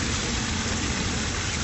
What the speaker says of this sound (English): I'm gonna rinse off my hands real quick